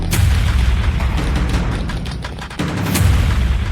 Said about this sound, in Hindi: लोगों ने भी खूब फायदा उठाया, जमकर पटाखे चलाए।